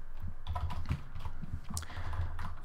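Rapid clicking keystrokes on a computer keyboard as Ruby code is typed, a steady close run of light taps with no talk over it.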